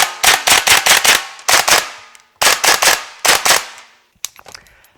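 A DAS GBLS GDR15 airsoft rifle firing BBs in short bursts of sharp, loud, closely spaced snapping shots with brief pauses between volleys, ending in a few quieter clicks and rattles.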